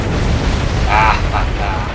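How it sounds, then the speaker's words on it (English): Booming torpedo-strike explosion in a naval warfare game, a loud rumbling blast with crackling debris, under an excited voice talking throughout. "we don't want to miss the first torpedo strike"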